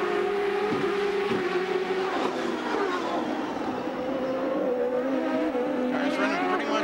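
CART Indy cars, including two Penske machines, race at the 1996 Detroit Grand Prix street circuit, a continuous loud high-pitched engine drone with shifting pitch as cars pass, under commentators' talk.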